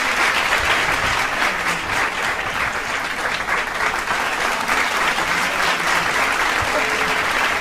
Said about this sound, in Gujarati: તો તાળીઓ તો હોવી જ જોવે